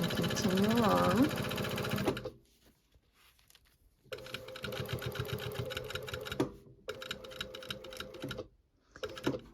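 A sewing machine stitches a zipper closure in fast, rattling runs, stopping twice for brief pauses, with a voice talking over the first part.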